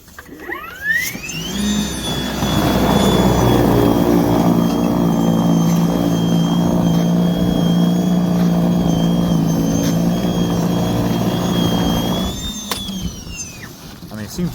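A Greenworks Pro 60V 22-inch battery snowblower clears about four inches of snow from a driveway, whining up to a loud, steady electric drone with a sustained high tone that holds for several seconds before spinning down.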